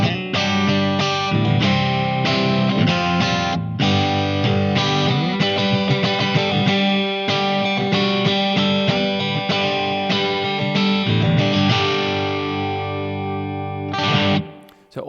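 Electric guitar played through a Blackstar AMPED 3 amp pedal on an unboosted drive setting: a mildly overdriven, chiming tone with strummed chords and picked notes running almost continuously, then ringing out near the end.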